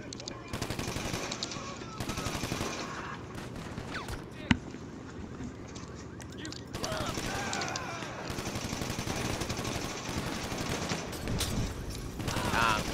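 Juggernaut's minigun firing in GTA Online, long sustained bursts of rapid automatic gunfire with scattered other shots and a sharp single bang, dense and loud throughout.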